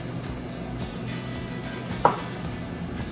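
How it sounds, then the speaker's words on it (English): Knife chopping strawberries on a cutting board: soft, quiet taps repeat in a steady rhythm, with one sharper knock near the middle over a faint room hum. "all I need to do is just kind of pull and chop these strawberries"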